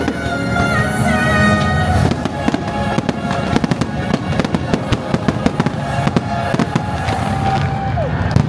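Fireworks display at Epcot's Illuminations show at Walt Disney World in Orlando: loud, rapid crackling bangs and pops in dense bursts over a crowd murmur and background music, continuing throughout.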